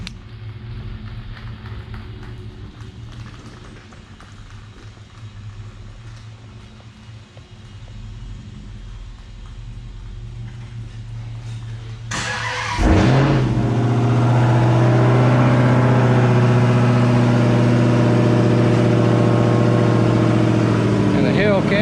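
A car engine idles with a low rumble in a classic car restoration shop, then swells into a louder, fuller rumble that holds steady as the car is backed out, with faint voices in the background.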